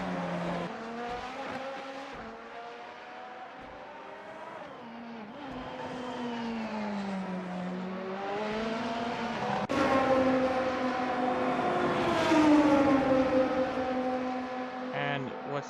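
Several race cars at a chilly Fuji Speedway during a Formula Hololive round, with engines whining and shifting pitch as they rise and fall, loud and continuous, the cars passing one after another.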